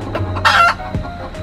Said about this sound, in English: Oh, there's a chicken in the tree.